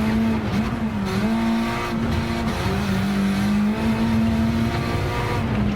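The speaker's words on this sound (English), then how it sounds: "This is going to be a fast lap for a front-wheel drive car." A front-wheel drive Honda races a lap in Gran Turismo 7, its engine droning loud and continuous at high revs with brief dips at gear changes and a rough layer of tire and road noise, no voices.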